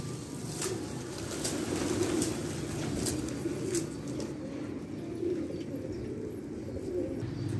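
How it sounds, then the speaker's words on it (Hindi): Domestic pigeons coo repeatedly in low, soft murmurs, with scattered sharp chirps and brief wingbeats as the flock takes off nearby. "कबूतर फिर से उठाए, आगे पार्टी ने भी उठाए हैं कबूतर"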